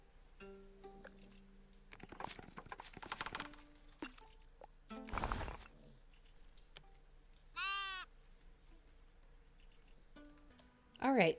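A sheep bleats twice in the video game Tiny Glade, short wavering calls standing clear of soft clicks and a speaking voice near the start.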